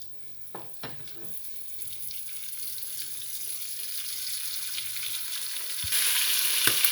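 Meat browning for a bourguignon in a frying pan after lardons, giving a steady close sizzle that grows louder toward the end, with a few clinks.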